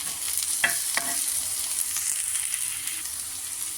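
Onions sautéing in a pan for egg kothu parotta, a steady close sizzle of frying with a few sharp scrapes of a spatula stirring near the start.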